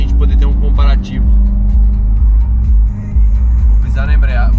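Citroën DS3R with a lightened flywheel idling loudly while someone talks over it, the engine's deep steady rumble dipping briefly a couple of times between phrases.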